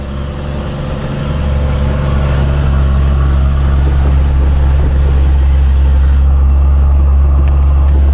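A truck engine drones loudly and steadily with a deep low rumble while accelerating on a dirt road, building slightly early on and continuing as a constant roar.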